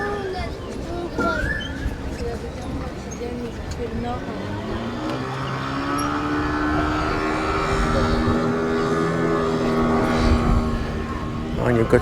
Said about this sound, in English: you've got some jet skiers on the river